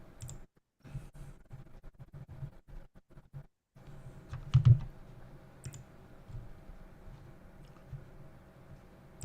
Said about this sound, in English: we're all typing